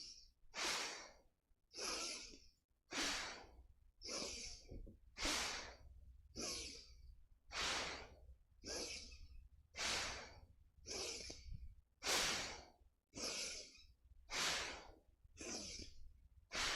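Forceful breathing during Kundalini yoga comes as a steady series of about fourteen sharp, hissing breaths at even intervals, close and quiet, with no talking.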